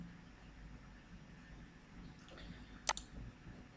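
A computer mouse clicks twice in quick succession, crisp and close, against a quiet room background while working in QuickBooks accounting software.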